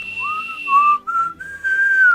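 A clear, melodic whistle glides up and down through a short tune, steady and close, with brief pauses between phrases.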